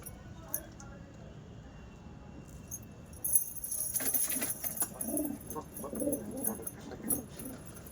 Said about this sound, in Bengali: তার একটা পায়রা দেখাচ্ছি